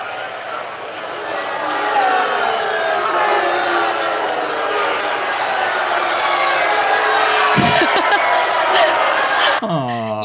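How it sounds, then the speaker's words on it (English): Crowd cheering and booing effects from the rhythm video game No Straight Roads make a dense, sustained crowd din of mixed shouts and whoops, with a brief thump near the end and a voice breaking in just before it stops. "Yeah, this is the cheering one. And this is the booing one."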